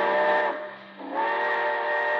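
A steam train whistle sounds loud and sustained in a chord of tones, dipping briefly in the middle before blowing strongly again until the end, heard alone.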